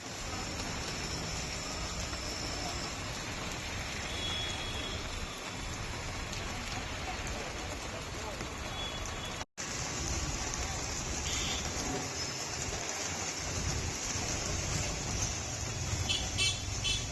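Midday rain falls over Bhavnagar city in a dense, continuous downpour, a loud even hiss that pauses for an instant midway and then returns just as strong.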